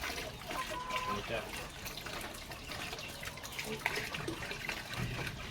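Water from a hand pump runs in a steady stream, a continuous trickling and gushing splash heard close up for several seconds under faint background noise.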